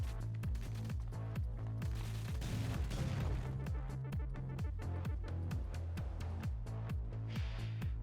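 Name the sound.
weapon shooting in the video game Assault Android Cactus+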